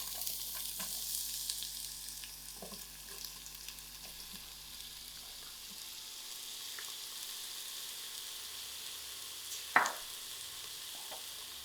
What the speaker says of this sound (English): Now I'm going to add in my onions.